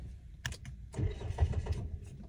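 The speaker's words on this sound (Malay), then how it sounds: "macam korang dengar sekali lagi tadi, bunyi starter tapi tak hidup" A car starter motor cranks weakly on a low battery and the engine fails to catch, giving a short sluggish grinding burst after a few faint clicks, quiet and close.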